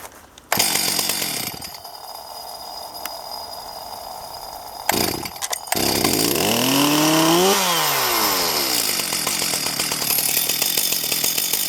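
Stihl chainsaw cold-started by pulling the starter cord: a few short pull bursts and sputters, then the engine catches, revs up loudly and settles into steady close running.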